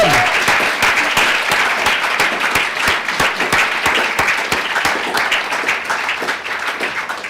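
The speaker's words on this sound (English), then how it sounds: "let's give them a loud cheer" An awards-ceremony audience claps loudly and steadily for several seconds, a dense wash of applause with a few cheers rising through it, the hall filled evenly from start to finish.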